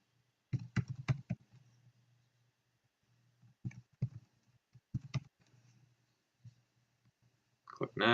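Password entry on a computer keyboard during setup of an Axis Companion camera site: short bursts of close, quiet key clicks with pauses between, in an otherwise silent room.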